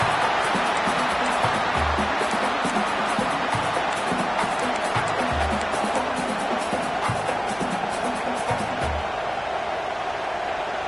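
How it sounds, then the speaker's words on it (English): A dense, steady roar of a large stadium crowd cheering in the college football video game College Football 26, continuous and loud throughout, with faint low thumps underneath. "this crowd is fired up. Listen to this noise here."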